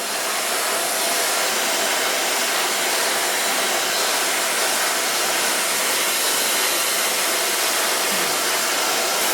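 A hair dryer blows steadily and loudly throughout, a continuous broadband whoosh with no breaks.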